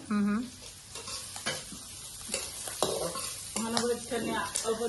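Onions and green chillies frying in a pan, with a steady sizzle under repeated scraping and stirring strokes, plus brief clatters, close and moderately loud.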